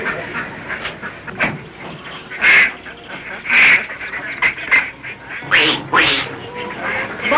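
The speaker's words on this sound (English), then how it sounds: "We have many ducks." A group of ducks quacks loudly and close by in repeated bursts over a continuous hiss of background noise.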